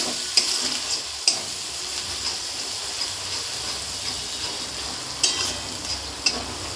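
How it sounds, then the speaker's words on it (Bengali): Spice masala with turmeric frying in a pan for a jackfruit (enchor) curry, a dense continuous sizzle with several sharp scrapes and knocks of a spatula being stirred through it, close and fairly loud. "দিয়ে দেবো হলুদ, মশলাটাকে ভালো করে কষিয়ে নেব"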